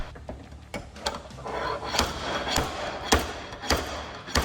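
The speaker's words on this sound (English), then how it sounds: "I grabbed my slide hammer, giving the larger tab a few extra tugs" Repeated sharp metallic knocks of a slide hammer yanking a glued pulling tab on a dented, rounded car panel, about seven tugs at irregular intervals, close and distinct over faint background rumble.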